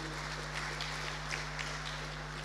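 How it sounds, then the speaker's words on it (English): Applause from an audience at a community ideas forum, a steady dense wash of clapping that carries on evenly throughout, heard over a low constant hum. "So I think you all need to give them a big round of applause."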